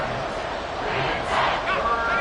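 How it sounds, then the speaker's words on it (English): A football stadium crowd at a Browns vs Texans game roars as a big play develops, the dense cheering swelling louder across the moment. "A big play here as the crowd noise rises."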